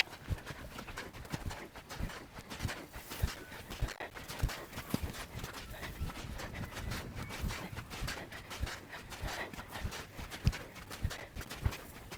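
Bareback, bridleless horse cantering in an open field without fences, with other horses nearby: a steady run of soft hoofbeats, fairly close and moderately quiet, over faint outdoor background noise.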